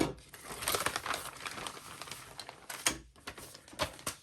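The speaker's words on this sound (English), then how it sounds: "I have my scissors today, so let's cut that open." Plastic crinkles and rustles close by, punctuated by a series of sharp snips and clicks as something is cut open.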